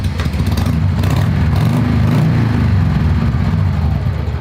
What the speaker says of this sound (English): They'll hear the rumbling.